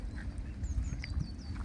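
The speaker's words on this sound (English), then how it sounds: "The geese are all there, all types, the ducks." Scattered duck quacks over a low outdoor rumble at a waterfowl-filled wetland, several calls spread across the moment, moderately distant and fairly quiet.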